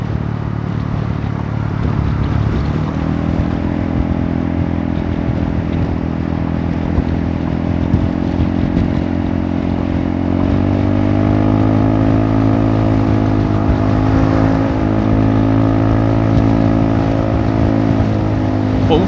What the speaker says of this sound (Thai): ขี่ไปผมก็พยายามฟังเสียงท่อไปว่าไส้มันจะขาดไหมนะ